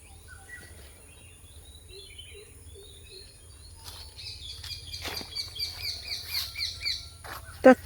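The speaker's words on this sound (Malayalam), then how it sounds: "തത്ത കരയുന്നു" Sharp, chirping parrot calls ring out in quick bursts over quiet background hum, growing louder and more frequent, ending with one loud squawk.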